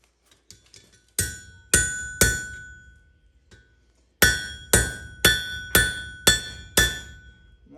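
A blacksmith hammers hot iron on an anvil in an Appalachian forge, ringing metallic strikes with a few light taps, three heavy blows, a pause, then a steady run of six loud evenly spaced hits.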